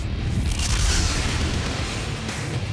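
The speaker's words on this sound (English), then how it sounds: "Just the right amount of fuel oxidizer mix. It is a massive explosion." A massive explosion of a homemade rocket fuel and oxidizer mix, heard as one loud, sustained deep boom and rumble that fills the clip with broad roaring energy and no voices.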